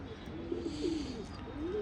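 A pigeon coos steadily in soft, repeated low warbles over a faint background hiss, close by and continuous throughout.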